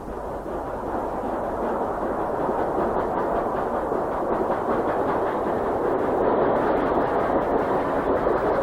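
British steam special hauled by a U class and a Q1 class locomotive at Bilson, a loud continuous rumble with rhythmic chuffing and rolling clatter building slightly as the train passes close by.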